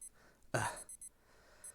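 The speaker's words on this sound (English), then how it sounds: "I reach over and stop the alarm, blearily sitting up." A video game alarm clock goes off in short, repeated electronic beeping bursts, moderately loud and close, with one louder broadband burst partway through.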